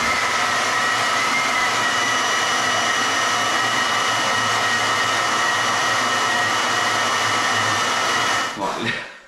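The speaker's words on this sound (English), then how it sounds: "when you're using Titan Hoovers, make sure you've got a pipe in the sucker bit, not the blow bit, okay? Because like blowing out, not sucking" A Titan vacuum cleaner runs with its hose in the blowing outlet, a loud, steady whooshing roar with a constant motor whine that holds for several seconds before winding down at the end.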